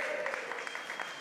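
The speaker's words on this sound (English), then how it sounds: "Give them a big cheer." Crowd in a live audience venue cheering and clapping for two guests, a short burst of applause heard at a moderate distance.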